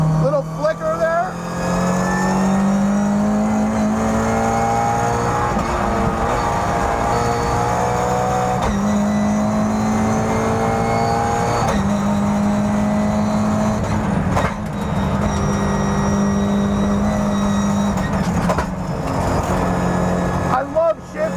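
Toyota GR86 Cup race car on a track, its engine droning loud and near with repeated rising pulls broken by quick sequential gearshifts, while a driver talks over the cabin noise.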